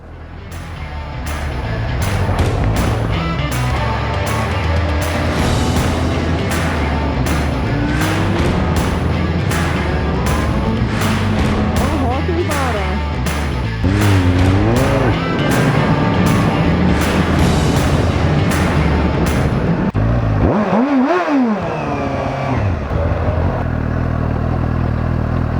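A Suzuki GSR 750 motorcycle on a test ride, its engine loud and close throughout, rising and falling with repeated revs and gear changes, with rattling clatter mixed in.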